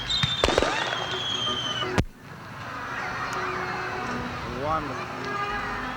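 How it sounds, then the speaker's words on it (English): Sharp fireworks bangs and crackles at a show open the scene, then a loud crowd murmur with voices continues afterward, fairly close and steady. "the fireworks spectacular that capped it all"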